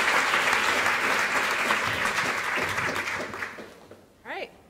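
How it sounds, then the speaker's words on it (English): An audience breaks into sustained applause for speaker Sarah Kendzior, a dense, even wash of clapping that fades out near the end before a brief spoken voice. "can we have a big round of applause for Sarah Kendzior?"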